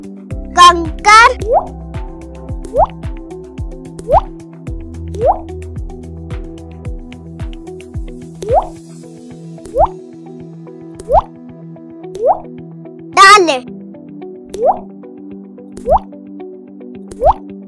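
Pebbles plop one after another into water as a thirsty crow fills a vessel, a steady series of about a dozen close, distinct drips over a soft musical background, with a voice speaking early on.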